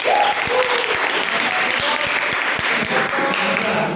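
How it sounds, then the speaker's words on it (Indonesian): A classroom audience applauds in an afternoon class, a dense steady clatter of many hands clapping close by for several seconds, with a brief voice at the start. "terima kasih tepuk tangan dulu untuk Mas."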